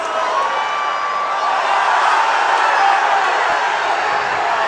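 Soccer crowd at a San Diego Loyal SC versus Detroit City FC match shouting for a foul whistle, a dense sustained roar of many voices filling the stadium at an even, loud level.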